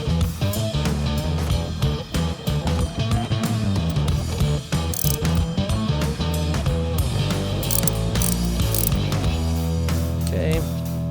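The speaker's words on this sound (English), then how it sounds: "we're going to loosen them up each 1 full turn, and then we're gonna torque them back again" A torque wrench ratchets Milwaukee 8 cam bolts on a Harley-Davidson Touring bike, first loosening and then torquing them, in rapid, close clicking bursts that run almost without a break.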